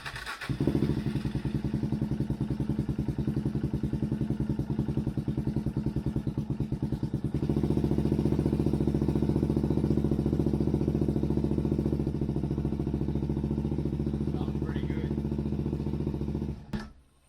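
A rebuilt 2000 Suzuki DRZ400S single-cylinder engine catches and runs with the choke on, holding a steady, loud, close idle with a rough mechanical clatter for about sixteen seconds before cutting off.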